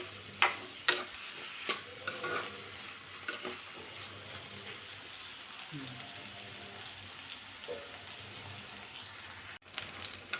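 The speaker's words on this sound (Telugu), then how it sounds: "ఇప్పుడు వీటిని మంచిగా కలుపుకోవాలి." Eggplant and green chillies frying in a pan are stirred with a few sharp scraping clicks against a steady low sizzle, with scattered utensil taps and no voices.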